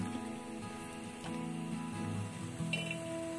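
Garlic fries in oil in a kadhai, a soft, even sizzle and crackle with a low steady hum beneath, quiet and close, no speech.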